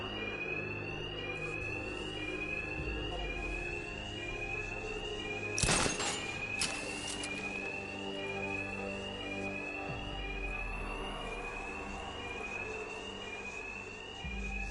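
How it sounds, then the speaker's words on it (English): Fire alarm in a Batman video game rings continuously with a steady, repeating electronic tone, loud and close, with a brief crash-like burst near the middle and no voices over it. "these thugs can't hear a thing over the alarm"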